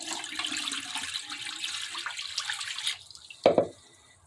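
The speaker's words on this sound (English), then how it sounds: "Pour it in the sink" Liquid pours in a steady splashing stream into a sink, then stops and leaves a short pause before a couple of sharp splashes and drips at the end.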